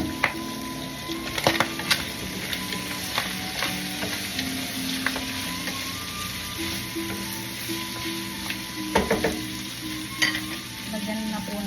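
Pork for igado sautés in a pan with a loud, continuous sizzle, while a spatula scrapes and stirs in scattered knocks throughout.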